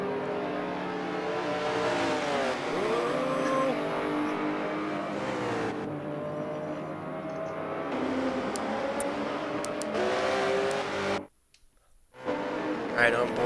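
On-board race car engine from a McLaren at Road America during a Michelin Pilot Challenge race, with a Porsche nearby, droning steadily with rising revs and gear shifts, a brief cut near the end, under commentator talk.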